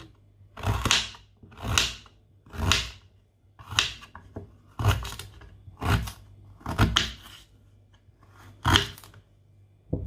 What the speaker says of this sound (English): Now I'm going to be cutting the garlic. And the ginger also.